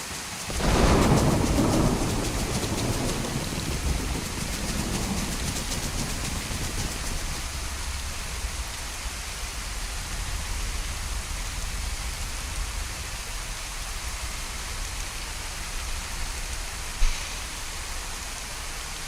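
Rain and thunder in the video game DayZ: a loud rumbling thunder roll near the start fades into steady hissing rainfall, with one brief sharp crack later on.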